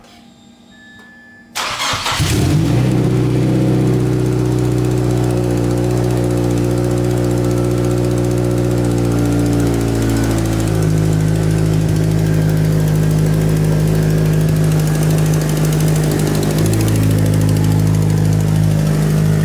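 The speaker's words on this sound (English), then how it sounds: "So let's hurry and start the car." Mazdaspeed 6 engine cranking and firing up after an oil change, a short loud start followed by steady, even idling that runs on close and continuous with no talk.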